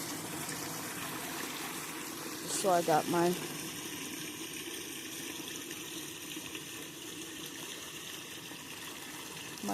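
Continuous running water, a steady outdoor rush like a stream or tap, with a person speaking briefly partway through.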